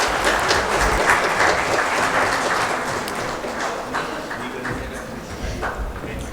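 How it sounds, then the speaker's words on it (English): Audience at a medical workshop applauds after a lecture, a steady wash of clapping that stays fairly even and slowly thins toward the end. "Can we have a huge round of applause for the wonderful lecture by sir?"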